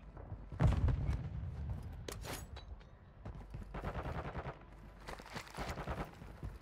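Gunfire rattles through a Call of Duty DMZ match, opening with a heavy close burst and then continuing as repeated volleys and scattered shots over several seconds.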